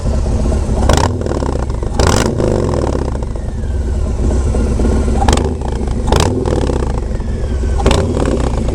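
A Harley-Davidson Low Rider S motorcycle engine runs loud and close, with several sharp revving bursts spaced a second or two apart over a steady idle rumble.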